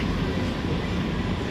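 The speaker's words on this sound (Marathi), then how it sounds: "एसी ट्रेनने जातोय आम्ही परत." Interior of an AC train running, a loud, steady broadband rumble and roar with no distinct events, continuous throughout.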